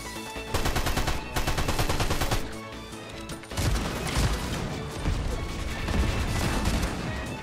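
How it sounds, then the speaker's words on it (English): Gunfire from a weapon in a competitive ranked shooter game rattles out in loud, rapid automatic bursts, with sustained sprays broken by a few brief pauses and impact crashes layered in. "I missed so many shots with this gun."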